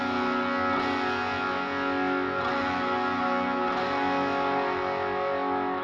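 Electric guitar played through a multi-effects pedalboard amp model at a raised preset volume, a sustained distorted chord ringing with rich harmonics and a touch of modulation and echo, steady and loud with no talking.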